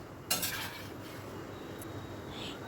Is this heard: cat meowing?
no